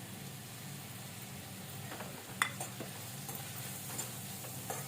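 A spoon stirs ajwain and cumin through onion frying in oil in a pan for jhunka, giving a soft steady sizzle with a few light scrapes and taps against the metal, including one sharper clink midway.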